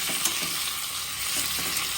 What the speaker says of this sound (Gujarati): હવે આપણે આ મરચાં નાખી દઈએ છે ને ઉપર નીચે ચલાવી લેવાના છે